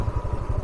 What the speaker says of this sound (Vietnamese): Còn trong này thì lác đác lâu lâu có xe máy